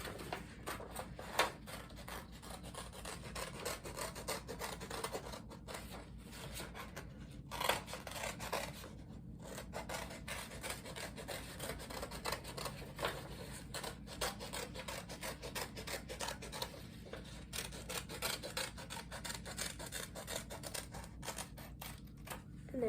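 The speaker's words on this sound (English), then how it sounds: "and we're going to cut it out." Scissors snip through paper while cutting out circles, giving repeated soft crunching cuts and rustling at close range for over twenty seconds, with no one speaking.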